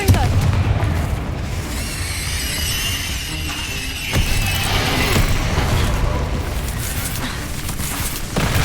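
Blasting-spell explosions in the Hogwarts Legacy video game, a dense run of booming bursts and crackling debris over constant game noise, with a sharp loud blast near the middle.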